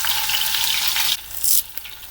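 Green chillies fry in hot coconut oil with mustard seeds, giving a loud, steady hiss and crackle with sharp pops near the end. The cooking is close, with no talk.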